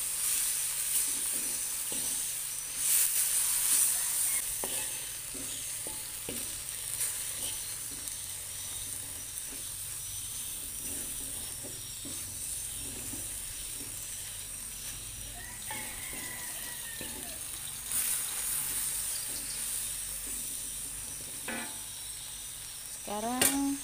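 Cassava leaves fry in a pan with a soft sizzle and hiss while being stirred, scraping sounds coming and going over about twenty seconds, moderately close.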